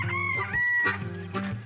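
A chicken clucks and crows close by in a few loud, harmonic bursts, with short gaps between calls.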